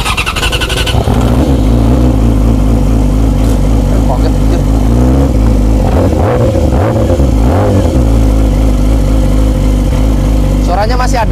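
A big motorcycle engine cranks, catches and settles into a loud, close, rumbling idle with a few blips of the throttle while it warms up, and a voice talks over it.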